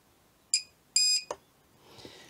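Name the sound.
spot welder warning beep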